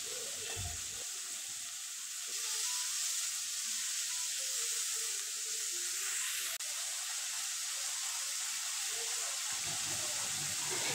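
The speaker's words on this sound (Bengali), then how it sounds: "প্রায় 2 মিনিট চিংড়ি মাছ ভেজে নেব। চিংড়ি মাছ বেশি ভাজতে নেই, তাই হালকা করে চিংড়ি মাছ ভেজে নেব।" Prawns fry lightly in mustard oil in a pan, giving a steady, bright sizzling hiss that runs through the whole clip, with a few soft clinks.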